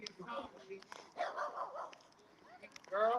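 A small puppy outdoors at a local political gathering lets out a few light yips and barks, moderately near and faint, mixed in with people talking.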